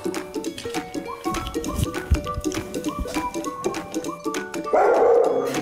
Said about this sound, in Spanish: Tenemos 17 caninos, pero mientras hablamos vamos y les muestro algunos